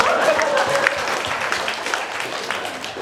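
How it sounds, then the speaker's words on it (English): An audience at a Buddhist talk on the Bodhisattva precepts claps in a steady round of applause, a moderately loud, even patter of many hands with a faint tone ringing briefly underneath. "Ladies and gentlemen, please give him a round of applause"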